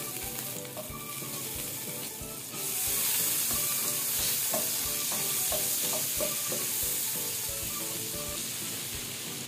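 Margarine sizzling steadily in a frying pan, a dense continuous crackle and hiss with light clinks of a utensil, growing slightly louder partway through.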